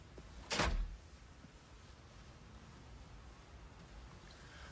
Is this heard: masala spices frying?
no